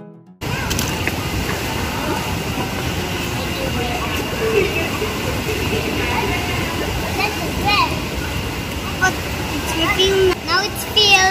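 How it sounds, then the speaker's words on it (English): A Steady Stream water gun by Admiral being filled, with a continuous close gush and slosh of running water throughout and a voice faintly over it. "Fill the gun with water."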